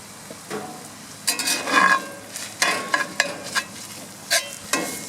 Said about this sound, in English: Stick them on the grill. Get them nice and brown.